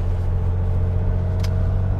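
Third-generation EcoDiesel engine in a 2021 Jeep Wrangler while driving, a steady low droning rumble heard from inside the cabin with no speech, even and continuous throughout.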